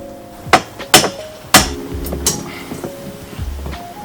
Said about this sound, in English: I got a hammer.